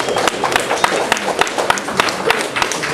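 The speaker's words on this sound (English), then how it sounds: "So, a big cheer for Gina" A live audience at an Orwell awards ceremony claps for Gina, a brisk burst of dense, close applause with sharp individual claps standing out, without audible cheering.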